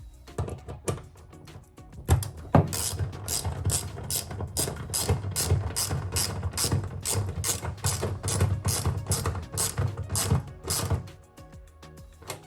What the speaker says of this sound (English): Get your 10mm socket.